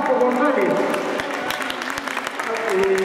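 Audience applause at a 2014 school science fair award ceremony, a dense steady clapping that fills the clip with a voice speaking over it.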